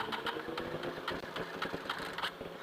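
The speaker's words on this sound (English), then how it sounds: "It's not starting. I hear it." A motorcycle engine struggling to start in changing weather, with a steady, rough mechanical churning and rapid uneven pulses, moderately loud and close, with no voices.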